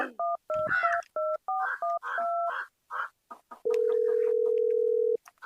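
A rapid string of touch-tone beeps as a number is dialed, followed by a long steady tone, clear and close with brief noises between.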